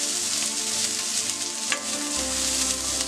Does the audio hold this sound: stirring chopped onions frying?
yes